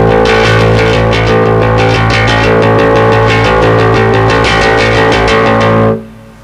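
A bassist playing open, undamped bass strings in a fast run of rapid strokes that ring together into a loud, dense, sustained wash of tone before cutting off near the end.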